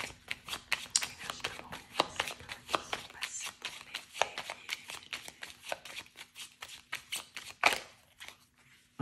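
A deck of 32 playing cards is shuffled in a rapid run of crisp riffling flicks, close and steady, with one sharper snap near the end and a faint voice murmuring underneath.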